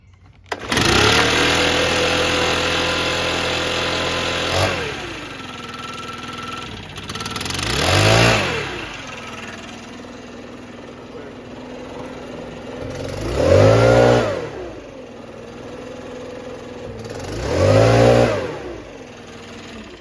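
A Stihl BR600 backpack leaf blower engine with valves needing adjustment idles loudly close by, then revs up four times in slow, swelling surges that show lagging acceleration and fall back to idle between.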